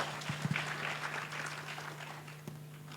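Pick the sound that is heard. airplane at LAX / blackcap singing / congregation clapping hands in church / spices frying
congregation clapping hands in church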